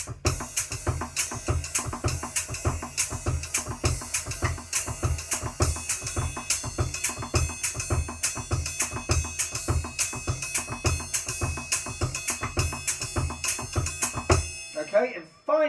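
Drum kit played with paradiddle-diddle sticking over a shuffle foot pattern, a steady stream of close, loud, evenly spaced hits with regular accents and kick pulses, running continuously before stopping abruptly near the end.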